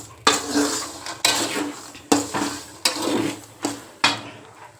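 Peanuts roasting in salt in a pan over a low flame, shaken and stirred in periodic bursts of gritty rattling and scraping, about six sweeps close by with brief pauses between.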